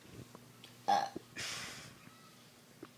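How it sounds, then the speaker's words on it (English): A single short burp rises out of a quiet room, followed shortly by a longer, breathy rumble; a few faint clicks and background hum surround it. "I'm sorry, I have to burp again."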